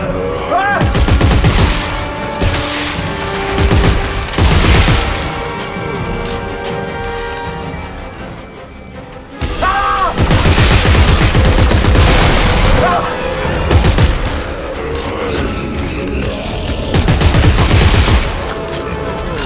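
Rapid gunfire in the sci-fi horror video game Dead Space 3, loud dense bursts with booms rolling over most of the stretch, a brief lull midway before firing resumes, alongside smoke and chaos.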